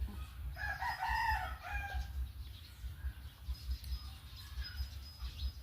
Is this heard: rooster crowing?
yes